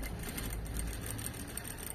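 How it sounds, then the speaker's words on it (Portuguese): A sewing machine topstitches a zipper fly, a faint steady pulsing whir of rapid needle strokes running evenly throughout, close and alone without voices. "pespontado a braguilha"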